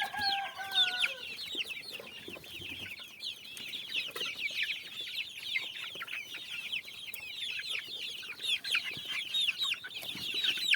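Dominant breed chicks out in an outdoor run for the first time, keeping up a dense, continuous chorus of high peeping and cheeping, with a brief lower clucking call at the start; fairly faint and steady, no talk.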